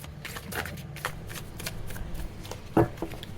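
Tarot cards being shuffled by hand, a run of soft papery riffles and slides with a sharper snap near the end, close and fairly quiet, with no talking.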